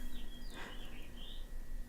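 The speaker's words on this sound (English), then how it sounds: "Those are actual birds." Birds chirp outdoors, heard faintly from a distance in a short burst of a couple of thin whistled calls over a steady low hum.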